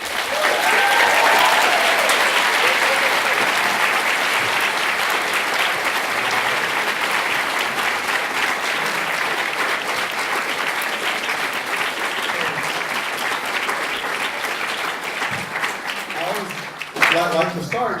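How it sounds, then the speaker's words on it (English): A warm round of audience applause welcomes Salman Khan onto the stage at the Berkeley Forum, a dense, steady clapping that runs loud and unbroken for the whole stretch. "Please join me in giving him a warm round of applause."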